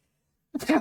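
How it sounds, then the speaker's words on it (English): A single person's sneeze bursts out suddenly after half a second of silence, short and close. "I gotta sneeze."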